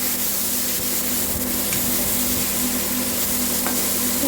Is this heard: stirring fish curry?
yes